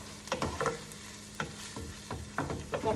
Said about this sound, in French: Là, je vais tout mélanger.